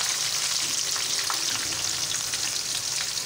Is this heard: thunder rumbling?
no